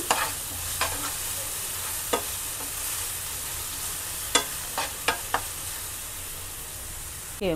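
Onion and cumin frying in oil in a pan, a steady broadband sizzle with several sharp scrapes of a spoon stirring at irregular intervals, close and fairly quiet.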